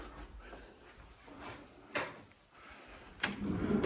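Sliding closet door in a walk-in closet being moved, giving soft rolling and rumbling runs broken by a few sharper knocks as it shifts along its track, fairly close and moderately quiet.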